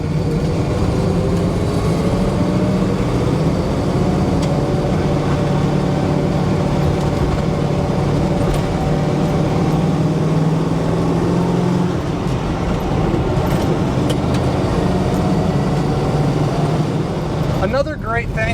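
A 1972 Chevrolet Nova drives along a bumpy road after a downshift, its engine a steady low drone blended with road rumble, with a voice briefly heard near the end.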